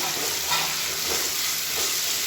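Onions, beans and other vegetables sautéing in a pan for hotel-style ground-masala sambar give a steady, dense sizzle, close and continuous, with faint stirring underneath and no speech.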